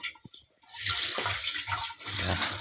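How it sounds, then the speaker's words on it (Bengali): Water running and splashing as boiled, chopped banana flower is drained and rinsed, a steady close pour after a brief quiet start. "আগে এটা জলটা ঝরাই নেবে"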